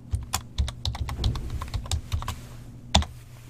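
Quick clicks of a computer keyboard as an email and password go in to log in, a run of irregular close keystrokes with a final louder tap after a brief pause.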